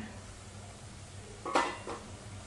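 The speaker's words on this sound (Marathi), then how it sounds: "झाकण उघडून बघूया." A metal lid is lifted off a cooking pot of cluster bean vegetable being made for a Pitru Paksha offering: one short, bright clank, then a fainter second clink, over quiet kitchen background.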